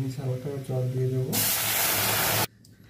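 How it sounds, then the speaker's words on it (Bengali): Water poured into a hot pan of fried mung dal sets off a loud, sudden rush of hissing steam that lasts about a second and then stops abruptly. A voice is heard talking just before it. "আমি ভেজে নিয়েছি, আবার জল দিয়ে দেবো।"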